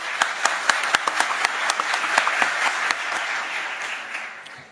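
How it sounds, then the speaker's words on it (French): An audience applauding at a CAF executive committee election session, scattered sharp claps over a sustained wash of clapping that slowly tapers off, fairly close and loud. "c'est le président qui va vous demander d'applaudir"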